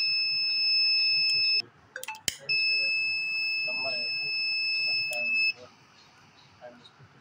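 A flame-sensor fire alarm buzzer drones loudly and piercingly, cuts out briefly with some clicks, then sounds again before stopping; faint background noise remains.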